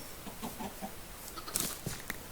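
Soft, low clucking from a few Minecraft chickens, scattered short notes over a faint hiss, with a couple of sharper clicks near the end.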